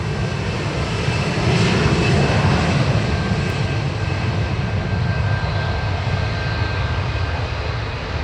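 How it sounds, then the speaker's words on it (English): A National Airlines Boeing 747 at Dublin Airport gives off a loud, continuous jet engine roar with a broad rumbling body and a faint whine, fairly close and steady throughout. "A National Airlines 747 replacing that triple that we were talking about, coming from Abu Dhabi."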